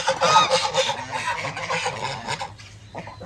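Domestic ducks quack and honk in a noisy close-up flock, overlapping calls filling the first seconds before thinning out, with no talking.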